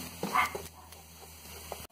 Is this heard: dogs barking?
yes